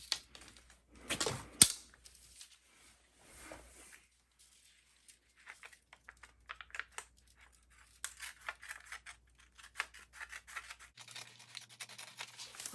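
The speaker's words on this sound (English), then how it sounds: "I'll go ahead and start cutting it out now." Scissors snipping through an old piece of Tyvek, giving close, crisp crinkling cuts in short irregular bursts with pauses, followed by a steady faint hum near the end.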